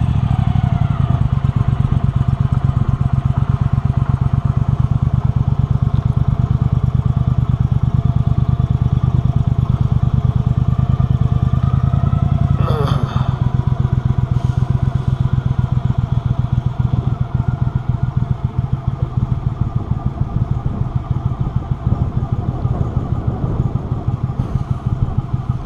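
A Mudbuddy Sport V 44hp mud motor drives a boat through thick weeds on the Wisconsin River, a loud, continuous close engine roar with a steady rhythmic throb throughout.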